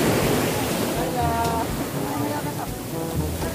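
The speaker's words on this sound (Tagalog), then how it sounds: "Sobrang lakas ng alon, oh." Strong sea waves wash against the shore at Isla Jardin del Mar in Glan, Sarangani, making a loud, continuous roar of surf heard close up and alone.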